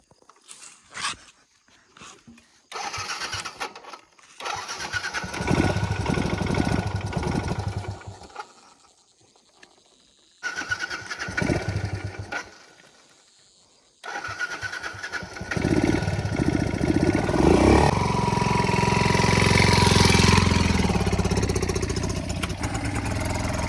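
A motorcycle engine on a steep hilly village road cranks and sputters, cuts out twice, then starts again and runs with a loud, steady roar to the end.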